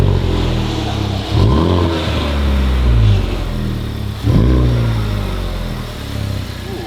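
A Honda Civic Type R pulls out of a garage, its engine revving and idling at close range with two distinct throttle blips and a bump, no talking.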